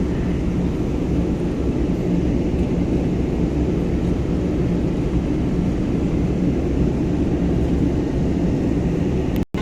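Steady, loud airliner cabin roar while the airplane banks in flight at night, a constant broadband engine and airflow drone throughout that cuts off abruptly at the very end.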